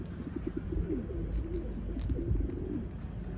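Pigeons coo in low, throaty, rolling phrases, several overlapping calls close by against a steady background hum, with no talk.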